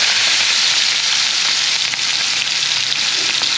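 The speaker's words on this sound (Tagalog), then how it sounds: "Mainit na po yung kawali na may mantika. Prito na po natin yung chicken ni Aya." Chicken pieces frying in hot oil in a pan, a steady loud sizzle and hiss that holds without pause, with no talking.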